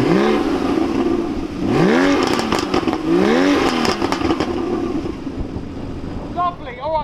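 A Porsche Cayman S 981 starts up and is blipped through several sharp revs, each rising and falling quickly, loud and close, before settling into a rougher idle.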